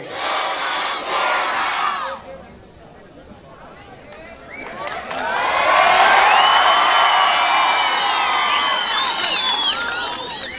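A large crowd at a political rally shouts and chants slogans together to welcome Owaisi, in loud ragged bursts of massed voices with a brief lull, then swelling into sustained roaring cheers.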